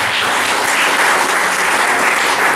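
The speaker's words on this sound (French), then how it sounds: "Je veux qu'on acclame le Seigneur Jésus." A church congregation applauds, a dense, steady wash of many hands clapping at once, loud and close throughout, with no voices rising above it.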